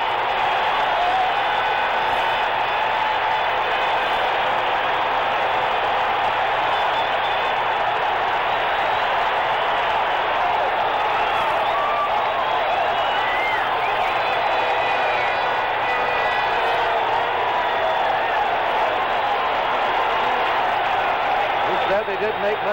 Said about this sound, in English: the crowd on its feet roaring here in the Oakland Coliseum